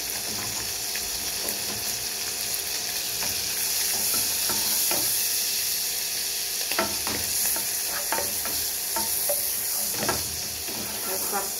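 Finely chopped linguiça sausage fries for feijoada, with a loud, steady sizzle and hiss running throughout and frequent close scrapes and knocks as a utensil stirs the pan.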